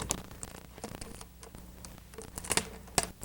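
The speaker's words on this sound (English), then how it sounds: "And I'll just tape this down." Clear tape being pulled and pressed down to secure a scored Simpliflex plastic disc on the end of a cylinder, heard as close, uneven crackling rips and taps with no talking.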